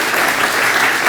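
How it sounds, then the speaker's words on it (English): A large audience gives a huge round of applause at a local community gathering about the Rx Kids program in Kalamazoo, a dense, steady burst of many hands clapping together without letup. "They came together, a huge round of applause."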